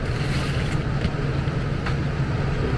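A PSC blower motor runs in a Lennox furnace restricted by an undersized filter, giving a steady low hum and airy whoosh of moving air, constant and close.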